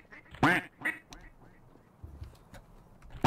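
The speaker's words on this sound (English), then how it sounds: "The ducks are going a bit crazy." Ducks quacking in the Garry's Mod video game: several loud, nasal quacks in quick succession near the start, then scattered quieter quacks over low game background noise.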